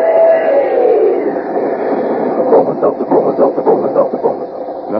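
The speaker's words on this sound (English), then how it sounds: "come on there, swing aboard our famous talking train" A talking-train sound effect from a Bromo Seltzer radio advertisement builds into a rhythmic, chugging pulse of train-like puffs with a voiced, chanting quality, loud and close over a dense background.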